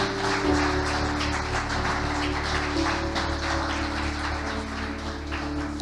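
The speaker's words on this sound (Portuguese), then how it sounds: "Se você puder dar um forte aplauso ao Senhor Jesus." Church congregation applauding at the close of a service, a steady wash of many hands clapping that holds at even loudness throughout, with a sustained organ or keyboard tone underneath.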